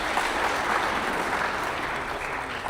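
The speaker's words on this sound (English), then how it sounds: "Let's give him a clap." Audience clapping for a speaker at a public gathering in Kisumu, a brief, steady burst of crowd applause with no voices over it.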